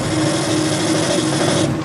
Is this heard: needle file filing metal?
yes